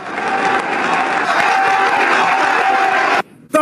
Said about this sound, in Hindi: तालियां, तालियां, वाह